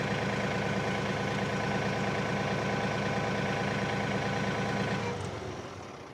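A compact LS MT232H tractor engine runs at a steady, loud idle up close for about five seconds, then cuts off abruptly with its stop button, the rumble dying away into near silence.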